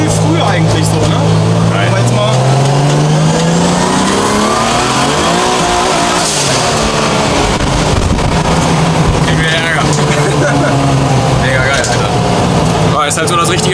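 A tuned track car's engine revs loudly at the PS Days 2023 car event, rising and falling through aggressive pulls over constant crowd and outdoor noise, with people talking nearby.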